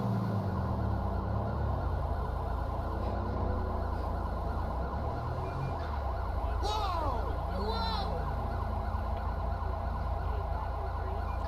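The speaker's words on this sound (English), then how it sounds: "Oh, I can hear some sirens." Video game emergency vehicle sirens in Los Santos wail, rising and falling over a steady engine drone, sounding fairly distant and mixed into continuous road noise.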